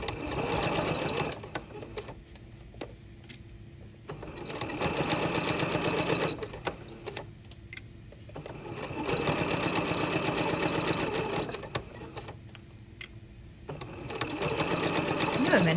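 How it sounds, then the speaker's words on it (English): A sewing machine runs a straight stitch seam with back stitching, whirring in three loud bursts separated by short pauses, with a voice talking in the gaps. "we're just going to sew this like we would any other straight stitch seam"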